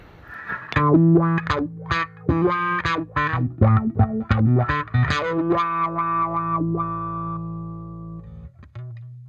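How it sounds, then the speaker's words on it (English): A bass played through fuzz distortion, with a run of thick, buzzing plucked notes that ends on one sustained note ringing out. "This is my fuzz / distortion."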